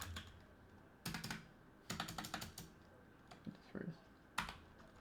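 Someone types on a computer keyboard in several quiet, close bursts of quick keystrokes separated by short pauses, with soft background hum.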